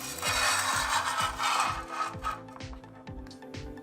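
Steady, close rubbing of a fingertip or cloth against a photo print stuck to picture frame glass, a dry, continuous friction sound with rhythmic strokes.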